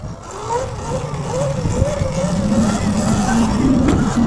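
A Surron electric dirt bike pulling a power wheelie, its motor whining up in a rising pitch over wind rush, close and steady for a few seconds.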